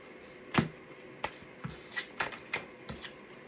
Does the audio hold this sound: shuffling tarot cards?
yes